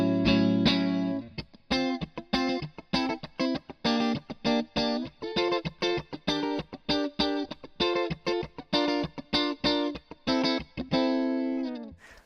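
Clean electric guitar, an Ernie Ball Music Man Cutlass HSS on neck and middle pickups, played in a quick, rhythmic strumming pattern of short, choppy chords, bright and slightly hollow in tone.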